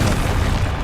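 A Confringo blasting spell in Hogwarts Legacy goes off as a short, loud, close explosive boom with a rumbling body.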